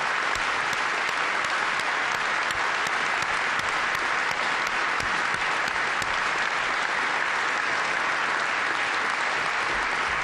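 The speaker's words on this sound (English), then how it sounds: "He deserves your applause." An audience at a change of command ceremony in Iraq breaks into loud, sustained applause, dense clapping that fills the room evenly for about ten seconds.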